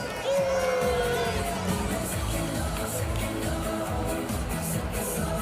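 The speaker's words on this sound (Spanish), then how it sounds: "forte aplauso para primeiro da ESO B" Students cheer and applaud for class 1 ESO B at a school carnival awards ceremony for the 2018 Entroido festival at IES Sánchez Cantón, a dense, steady crowd roar with shouts and whoops.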